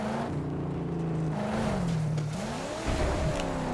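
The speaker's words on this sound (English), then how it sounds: "Off-roading like a beast." A car engine revs and strains while off-roading in the Mad Max video game, a loud continuous roar whose pitch rises and falls as the vehicle climbs and shifts, with a rough thump near the end.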